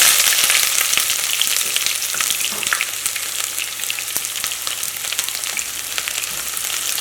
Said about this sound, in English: Once your oil is nice and hot, then I'll start by adding in my onions.